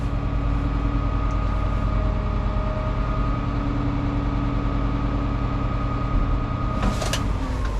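Wide-load truck hauling a Komatsu D65 dozer, its heavy diesel engine idling as the turbo winds down, a low steady drone with a faint fading whine, a short hiss near the end.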